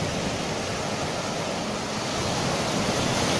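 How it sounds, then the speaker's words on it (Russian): Sea waves break steadily on a winter shore, a continuous loud wash of surf with no pause, one wave rolling in after another and no voices over it. "волна идет. Вот она."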